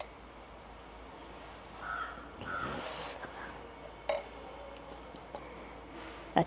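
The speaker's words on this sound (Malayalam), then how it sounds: "നല്ല കിളികളുടെ ശബ്ദമുണ്ട്" Birds call around the veranda of a village house in Kerala in the late afternoon. The calls are faint and scattered, with a few short, sharp notes over a quiet outdoor background.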